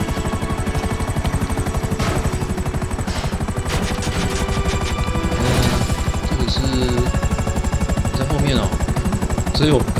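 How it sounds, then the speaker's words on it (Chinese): A helicopter in the GTA5 zombie mod drones steadily and loudly throughout, its rotor chop dense and continuous, with game effects and bursts of talk over it. "我以为直升机要坏了"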